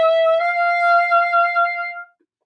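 A bassoon reed sounds a high F, a clear sustained tone with bright overtones held for about two seconds before stopping, close and solo.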